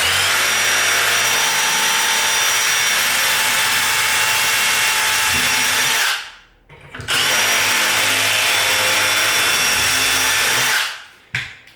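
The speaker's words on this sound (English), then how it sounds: "So once again, drill these ones here through." A power drill whines steadily at high speed for several seconds drilling holes in a cabinet door, stops briefly, then runs again before cutting off, loud and close.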